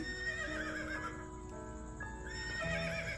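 A horse whinnies on a farm, a close, clear neigh that rises and wavers for a few seconds, with faint clip-clop and outdoor background noise beneath it.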